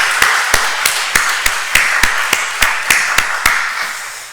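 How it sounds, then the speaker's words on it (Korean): A church congregation at a Korean afternoon worship service claps in unison, giving about a dozen loud, sharp, evenly spaced claps at a brisk, steady beat, heard close by with no talking. "우리 하나님께 영광의 박수 올려드리도록 하겠습니다"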